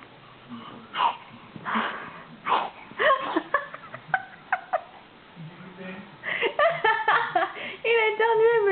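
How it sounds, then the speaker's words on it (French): A baby sneezes several times in short, bursting puffs at close range, mixed with small squeaky vocal sounds and cooing, while an adult talks nearby. "Il a éternué"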